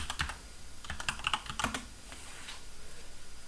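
Quick bursts of computer keyboard typing as a folder name is entered, close and fairly quiet, with a few clustered keystrokes followed by a lull.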